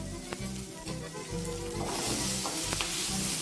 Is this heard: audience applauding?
no